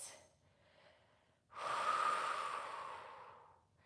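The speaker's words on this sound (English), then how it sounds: "Breathing in through the nose and out through the mouth." Deep breathing during a home Pilates workout, a long loud exhale out through the mouth after a quieter inhale through the nose, close and with no talking.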